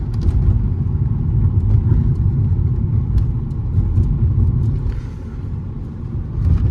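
Interior of a 2012 Volkswagen Touran 1.6 with a DSG gearbox on the move, a steady low engine and road rumble filling the cabin at an even level with a slight swell near the end.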